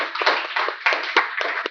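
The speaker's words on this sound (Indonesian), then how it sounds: "Mari kita berikan tepuk tangan yang meriah untuk para pembicara kita" A burst of clapping from a conference audience for the speakers, a dense patter of hands that rises and falls slightly over a couple of seconds.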